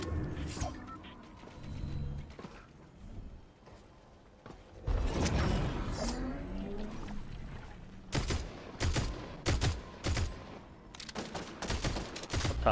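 Bursts of rapid gunfire from a Fortnite match, with loud clustered volleys in the second half after quieter mechanical clatter and creaks, plus a brief voice early on.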